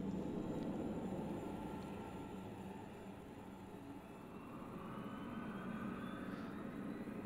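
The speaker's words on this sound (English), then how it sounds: "we follow those helicopter sounds around the speaker array" Helicopter recordings layered and upmixed for 5.1 surround, a steady broad rotor-and-engine rumble with constant low-mid drone that swells and dips slightly while holding throughout, fairly loud and unbroken with no voices.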